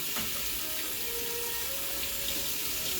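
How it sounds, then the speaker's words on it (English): Water runs steadily from a kitchen faucet while a small plate is rinsed at the sink, a continuous close, moderately quiet splashing flow with no talking. "Just kind of rinse it real quick, unless it's already good to go."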